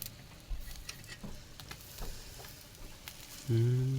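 Catfish grills over an open fire, crackling and popping in scattered bursts with a faint sizzle underneath, before a louder sustained tone cuts in at the end.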